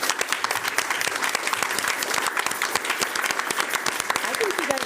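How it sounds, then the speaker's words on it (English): Dense, loud applause from the audience at a board of education business meeting, even and sustained for several seconds, with some voices mixed into the clapping. "Let's give them another round of applause."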